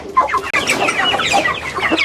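Rare-breed chickens, including white chicks, cluck in a busy overlapping chorus with short repeated calls from several birds, close by and steady throughout.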